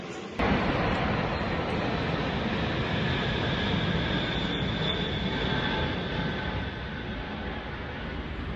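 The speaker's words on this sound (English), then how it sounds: "aircraft are taking evasive low-altitude routes, literally flying just above the rooftops of high-rise apartment buildings" Low-flying aircraft passing just above high-rise apartment buildings, a loud sustained engine roar that starts abruptly, holds steady, then eases slightly toward the end.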